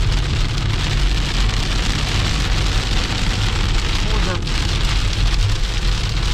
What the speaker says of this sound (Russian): Вот такой вот дождь.